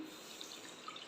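Two cups of water pour into a hot pan for a sweet dish in a home kitchen, a steady close splashing stream with a few brighter drips, faint and continuous, with no talking.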